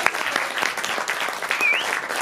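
Audience applause for the band at the Geleen Calling festival in 2019, a dense steady wash of clapping with a couple of whistles cutting through near the end.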